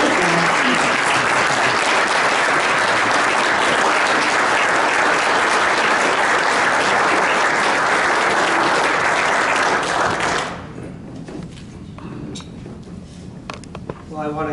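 An audience of Rotarians and friends applauds a new Paul Harris Fellow, a loud sustained wash of clapping that cuts off abruptly into quiet room murmur and a few stray claps.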